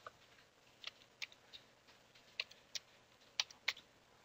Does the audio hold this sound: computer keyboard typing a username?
yes